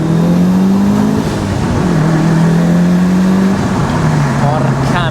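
A Mitsubishi Evo VI JDM rally-style car with very short gearing revs hard and accelerates up through the gears, the loud engine note rising in steady sweeps with quick shift breaks, while someone talks over it.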